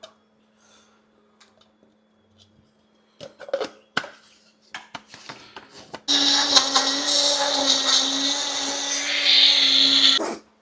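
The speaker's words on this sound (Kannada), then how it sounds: "ಮಿಕ್ಸಿಗೆ ಹಾಕಿ ಬ್ಲೆಂಡ್ ಮಾಡೋದು ಅಷ್ಟೆ" A kitchen mixer grinder blending tomatoes into puree for pav bhaji, starting with a few knocks and clicks, then running loud and steady with a whirring hum for several seconds.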